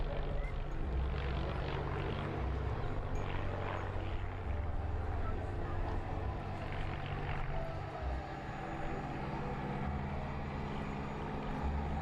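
A very quiet light aircraft approaches at an air show, a soft, even engine drone that holds steady throughout without rising sharply.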